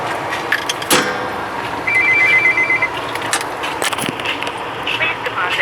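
Payphone bell ringing with an incoming call on a street, with repeated ring bursts over steady traffic and background noise, moderately loud and near.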